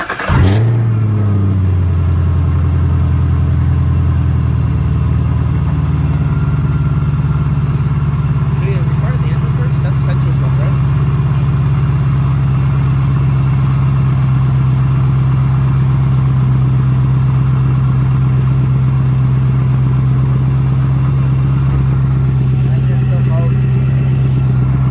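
Chevrolet Camaro ZL1 engine and exhaust blip up in a quick rev, then settle into a loud, steady, deep idle rumble that holds close and unbroken for the rest of the stretch.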